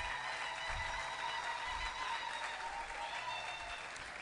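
At a University of Kinshasa ceremony, a crowd gives steady, sustained applause for Dr. Debora Kayembe receiving an honorary doctorate, the clapping even and somewhat distant.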